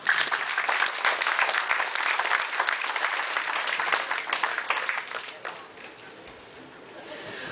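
An audience applauding at a stage show at Cactus Petes Casino: steady, dense clapping for about five seconds that then tapers off into quieter scattered claps and room noise.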